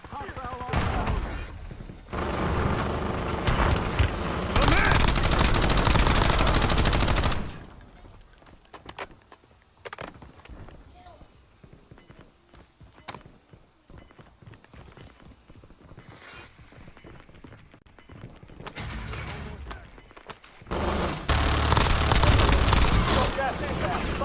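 Dense gunfire from Call of Duty Warzone, loud bursts of automatic fire at the start and end with quieter scattered shots in between, under a game voice giving callouts.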